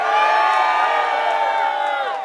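A live audience at a radio show taping bursts into loud cheering and whooping, a sustained close roar of many voices that slowly tapers off.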